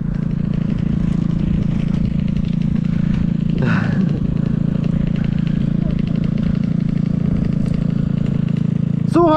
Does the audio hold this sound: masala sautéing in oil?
no